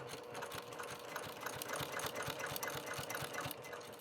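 A sewing machine stitches a quarter-inch quilt seam, a quick steady rhythmic whirring and tapping of the needle running continuously, close and fairly quiet.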